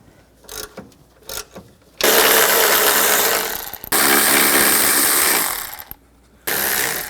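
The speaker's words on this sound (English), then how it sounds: "We're going to take these 3 nuts off. Use a 14mm socket." Ratchet fitted with a 14mm socket spinning off the strut mount nuts on a 2011-15 Kia Sorento front strut: a few short clicks, then long, loud, harsh buzzing runs broken by brief stops, heard up close.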